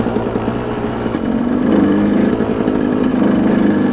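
A KTM motorcycle engine runs steadily and close by on a mining-area trail, a continuous buzzing drone that swells slightly in the middle and stays loud throughout, with no talk over it.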